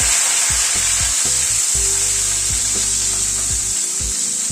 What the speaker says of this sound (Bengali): আলুটাকে আমি একটু হালকা করে অল্প করে ভেজে নিচ্ছি